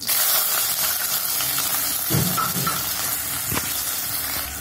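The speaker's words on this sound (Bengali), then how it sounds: "এবার আমি একটু ভালো করে ভেজে নেব" Chopped onion fries in hot tempering oil in a pan for nimki, giving a loud, steady hiss and sizzle close by, with a few brief crackling swells.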